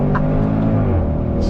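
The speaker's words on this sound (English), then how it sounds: "That wonderful sound from that 5-liter V8." The 5-liter V8 of a 2021 Range Rover Sport SVR Carbon Edition revs with a loud, deep, steady engine roar, heard up close in a brief burst without speech.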